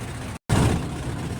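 A trawler boat's engine drones loud and steady on the Padma river, cutting out for a brief moment before the rumbling chug resumes.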